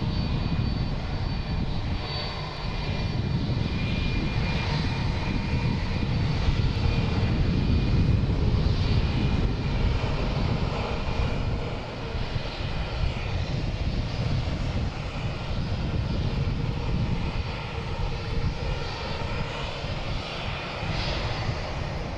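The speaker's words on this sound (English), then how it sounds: "You got a ghost plane taking off here." A jet airplane takes off at Boston Logan International Airport, its engines giving a loud, steady roar that holds at full strength for over twenty seconds.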